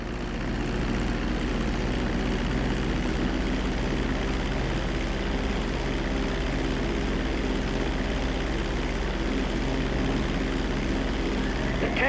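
Steady, loud propeller-aircraft drone in GTA 5, a continuous engine hum holding for the whole stretch with no talk over it.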